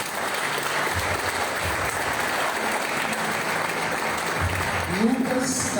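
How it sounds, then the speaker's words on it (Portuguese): A church congregation at a Baptist communion service bursts into sustained, dense applause that fills the room, with a voice rising briefly near the end. "Você pode aplaudir o Senhor?"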